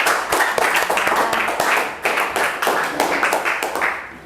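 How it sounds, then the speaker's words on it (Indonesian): A classroom breaks into applause after a student presentation, with many hands clapping in a dense, steady, close patter that keeps up for several seconds. "berikan aplaus dulu"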